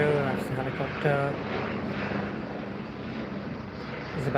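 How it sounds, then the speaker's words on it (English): A helicopter flying in to land drones steadily at a moderate distance in London, its engine rumble continuous, with a voice briefly talking over it. "There you go, that's the helicopter."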